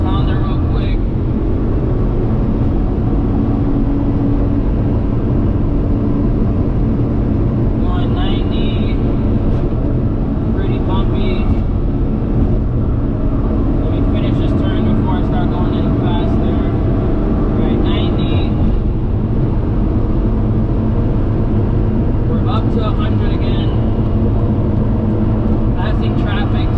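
Daihatsu HiJet kei truck with a 4-speed gearbox accelerating uphill on a highway, a loud, steady, strained engine drone with road rumble throughout.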